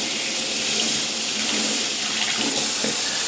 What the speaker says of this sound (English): Then again, run the water.